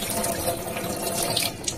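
Tap water runs steadily nearby over soaked chickpeas, kidney beans and mung beans in a kitchen, a brief continuous gushing stream.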